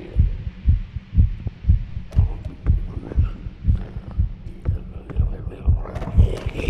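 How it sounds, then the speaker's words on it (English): A heartbeat warning sound from the horror video game Lunch Lady thumps steadily, roughly twenty low double beats in a regular pulse, loud and close. "Do you hear a heartbeat?"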